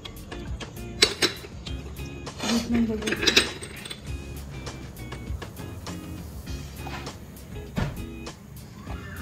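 Phuchka filling gets mixed by hand in a large bowl, with scattered clinks and knocks of a utensil against the dish and low rustling in between.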